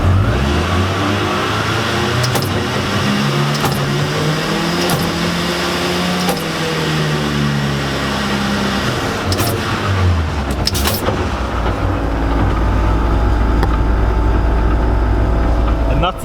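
A supercharged 300bhp MK1 Ford Escort Mexico track car sits up on stands while its engine revs loud and close, with repeated sharp blips and surges, then settles into a heavy, steady drone near the end.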